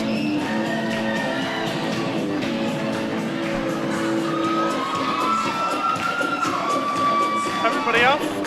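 A crowd at a wrestling match cheers and shouts continuously, with children's voices and whistling squeals rising above a dense, loud roar; clapping is not distinct.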